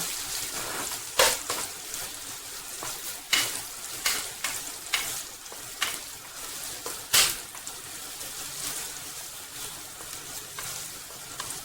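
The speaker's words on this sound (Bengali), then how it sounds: "এইবার পেঁয়াজটা নাড়াচাড়া করবো যতক্ষণ না পেঁয়াজটা লাল হয়ে আসছে" Chopped onion fries with fish in a pan and is stirred, producing a steady close sizzle broken by repeated scraping strokes of the utensil at irregular intervals.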